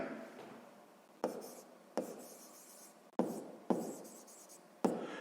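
Writing out the solution to a sixth-grade math problem: soft scratchy strokes with sharp taps as each word starts, close and quiet, with no one talking.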